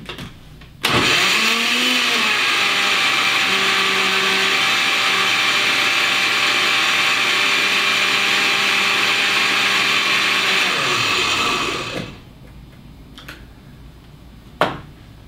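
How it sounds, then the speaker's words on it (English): A countertop blender chops and purees a clump of wheatgrass for a green drink, its motor starting abruptly and whirring loud and steady for about eleven seconds with a grinding, rattling pitch that dips as it churns, then cutting off, followed by a few faint clicks. "throw it in the blender"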